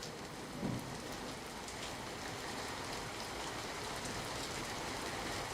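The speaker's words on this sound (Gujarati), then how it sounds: "ધોધમાર વરસાદથી અમદાવાદ જળમગ્ન થયું" Heavy rain pours down on Ahmedabad in a steady, dense roar that holds evenly throughout, with no voices.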